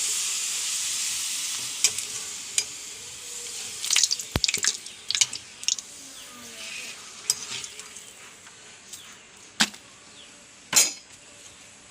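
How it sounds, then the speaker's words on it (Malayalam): Papadum frying in hot coconut oil gives a steady, gentle sizzle, with scattered sharp crackles and clicks popping out more loudly at irregular moments throughout. "അപ്പോൾ പപ്പടം പൊട്ടിച്ചിട്ട് വറുക്കണം."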